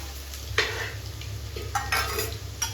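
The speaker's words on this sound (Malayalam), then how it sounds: "നന്നായിട്ട് ഇളക്കുക." Crushed ginger and garlic are stirred into a frying chilli masala in a pan for a Kerala biriyani. Soft scraping stir strokes sound over a low background sizzle, with a few louder scrapes near the end.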